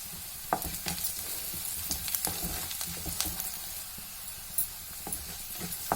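Onions with turmeric and salt fry in a pan with a steady, moderate sizzle, and a spoon gives intermittent scraping stirs close by.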